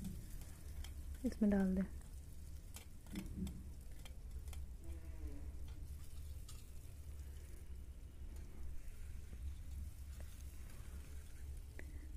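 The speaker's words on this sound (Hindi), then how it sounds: "प्याज को हल्का गुलाबी होने तक भूनना है" Finely chopped onions frying in a pan for baingan bharta, a soft steady sizzle running throughout with occasional stirring clicks, while a voice speaks briefly near the start.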